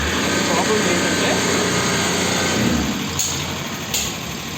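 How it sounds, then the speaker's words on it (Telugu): A Bolero Maxx truck engine with a failed water pump bearing runs close by, a steady rough grinding drone under a voice speaking. "దాని వాటర్ పంపు ఇది, దీంట్లో బేరింగ్ పోవడం వల్ల మనకి గరగరగరమైన సౌండ్ వస్తుంది."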